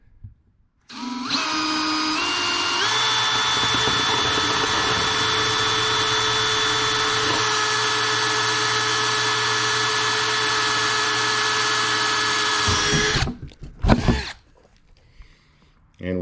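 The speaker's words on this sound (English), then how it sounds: "Now, the next step is to drill them." A power drill whirs steadily for about twelve seconds, close and loud, drilling holes in a-arm armor, changing pitch slightly as it bites, then stops with a few clunks.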